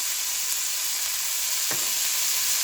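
Mixed vegetables for a desi veggie pasta sauté in a pan with a steady, loud broadband sizzle and one brief clink partway through, no voices.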